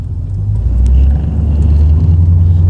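A Mazda RX-8 with an LS-swapped 6.2 L V8 rumbles up close, a deep, loud, steady low-pitched drone that swells slightly and holds for a few seconds without any voices.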